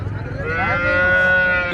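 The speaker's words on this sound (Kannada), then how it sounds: "ಅಣ್ಣ ಫ್ರೆಂಡ್ಸ್ ಇಲ್ಲೊಂದು ಹಸು ಇದೆ ನೋಡ್ರಿ" A cow at the Sindhanur cattle market lets out one long, loud, close moo that rises and holds steady, with almost no other sound around it.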